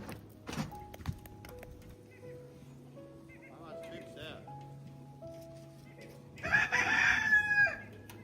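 Chickens on a snowy countryside farm cluck in scattered calls, then a rooster crows loudly near the end; a person speaks quietly in between amid soft thumps.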